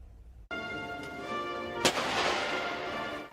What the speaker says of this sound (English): A cannon salute pierces the air at the Camp Robinson Maneuver Training Center